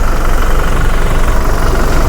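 A Toyota Innova Reborn V automatic with the 2GD diesel engine, a 2022 model, idles nearby with a steady, loud, even rumble that holds without change.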